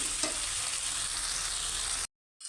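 Mint and coriander leaves frying with tomato in a pan for tomato biryani, a loud, steady, close sizzle that cuts off abruptly before briefly resuming.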